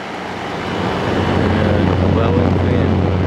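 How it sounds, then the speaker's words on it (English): A 2019 Home 5000 BTU window air conditioner, model HME020003N, with a GMCC compressor, runs with a steady low hum that swells in after a moment and holds loud and close, alone without talk. "The compressor sounds pretty good."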